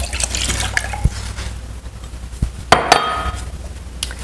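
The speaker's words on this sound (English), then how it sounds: "Then we'll add 2 cups half and half." Half and half poured into a bowl of six eggs for an overnight French toast casserole, a soft liquid pour with a couple of light clinks of glassware, close and without talk.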